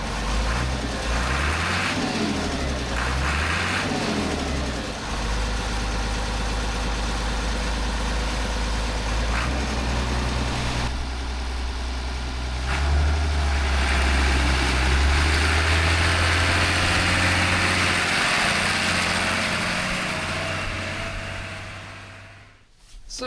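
A vintage Massey Ferguson tractor engine runs for a long stretch, a deep, throbbing low rumble that shifts in pitch as it revs and settles, loud and close, before fading out at the end.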